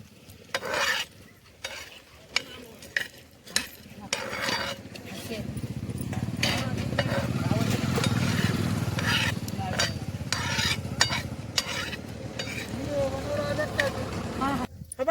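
Gram dal roasting in a pan over a wood-fired village stove, with scraping stirs and light clinks early, then a fuller continuous rustle and sizzle of the stirred lentils, close and moderate in level.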